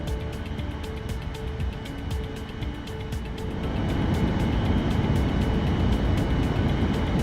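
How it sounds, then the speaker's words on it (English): A CRJ900's left engine starting up in the Aerofly FS 2023 flight simulator: a steady turbine whine and hum that rises midway into a louder, denser roar as the engine lights and spools up, with no talking. "The engine controller now turns on the igniters and introduces fuel and starts the engine fully automatically for us."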